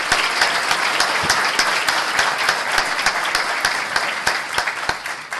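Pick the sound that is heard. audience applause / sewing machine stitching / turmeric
audience applause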